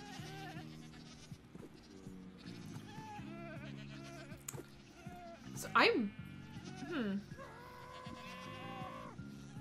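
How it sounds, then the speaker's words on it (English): Screaming goats in Minecraft let out shrill, wavering bleats and one piercing scream over a bed of game noise, with a person talking quietly throughout. "I'm just gonna be very amused by the screaming goats."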